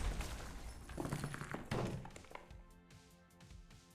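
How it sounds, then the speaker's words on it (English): Several explosions go off during a Minecraft Championship event, a cluster of heavy thuds and crunching blasts in the first two seconds, then smaller bangs and debris rattling away more faintly. "Just one explosion."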